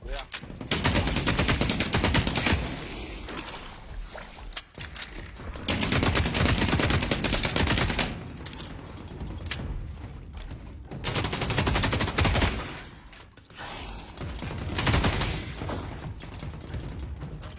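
Gunfire in The Cycle: Frontier, long loud bursts of automatic shots broken by short pauses and mechanical clicks, repeated several times, with voices talking in between.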